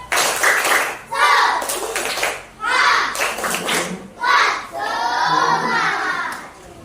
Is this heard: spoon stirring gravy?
no